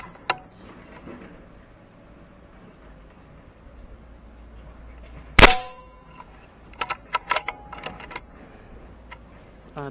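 A Terme-M3 air rifle fires one sharp, loud shot in the middle, followed by several quieter clicks and clacks of handling and loading, in an otherwise quiet setting.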